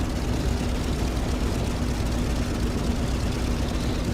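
A Milviz FG-1D Corsair's propeller engine in Microsoft Flight Simulator gives a steady, loud drone with a low hum, unbroken and without talk.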